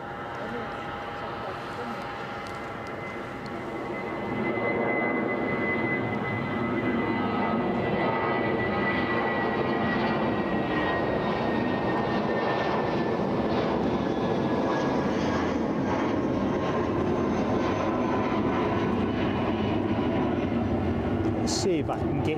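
Aircraft engine roar at Cologne Bonn Airport, where freighters operate, rising after a few seconds to a steady, loud, continuous drone with a slowly shifting whine, sustained throughout without clear talk.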